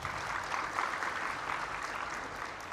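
Audience clapping during a presidential speech, a dense, fairly faint spread of applause lasting the whole moment without any voice over it.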